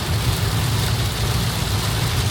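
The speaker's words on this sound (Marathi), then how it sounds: "भयंकर अति प्रचंड वेगाने पाऊस" Very heavy rain pours down during a car journey on a Pune to Nagpur road trip, a dense steady roar of rain mixed with low road and engine rumble, loud and unbroken.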